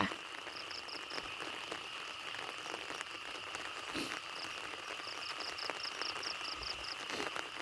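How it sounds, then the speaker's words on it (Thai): Heavy night rain falls steadily on surfaces at a rural house, a dense continuous patter with insects chirping through it and a few louder drips. "ตอนนี้มันก็ยังตกอยู่เนาะพี่น้องเนาะ ฝนน่ะ"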